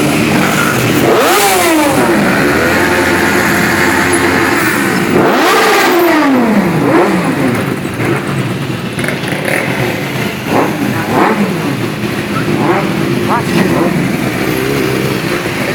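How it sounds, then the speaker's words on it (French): Many motorcycles gathered for a Téléthon charity ride in Rouez rev and roar together, with rising and falling engine sweeps up close, a continuous loud engine din throughout and voices talking over it. "Regarde, il y a au moins 1250 motos."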